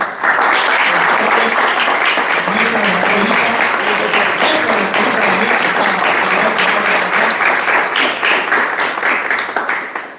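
A large audience applauds steadily and loudly for about ten seconds in a church or community gathering, honoring teachers on Teachers' Day, with dense, sustained clapping and faint voices mixed in.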